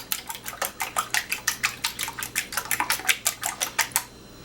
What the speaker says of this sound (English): I'm going to take an egg. I'm going to beat it.